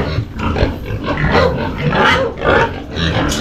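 A pig heard up close, making loud rough grunts and snorts in a steady, restless series, set against noisy surroundings.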